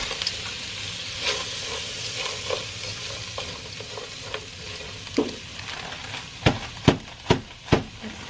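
Frozen vegetables sizzle steadily in a pan while a utensil stirs them. Toward the end, a few sharp, loud knocks of the utensil against the pan ring out.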